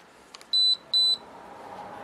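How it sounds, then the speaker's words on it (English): A Sharp PC-1211 pocket computer gives two short, high electronic beeps in quick succession, faint and close, over a quiet background with a couple of soft clicks before them. "you can see there's a little beep 2 in there."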